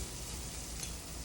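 Curry cooks in a pan with a steady, close, even sizzle that fills the short moment alone, without any voices.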